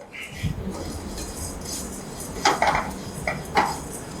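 Whole cumin and black pepper dry roasting in a pan, with a few scattered clinks and scrapes of a utensil against the pan over a low steady background, several brief metallic knocks standing out near the end.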